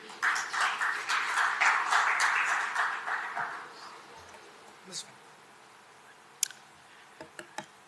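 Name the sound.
audience applause for a start-up team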